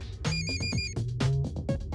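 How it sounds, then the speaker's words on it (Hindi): A phone ringtone plays a repeating electronic melody, clear and fairly close, with no talking over it. "तुम्हारा फोन बज रहा है।"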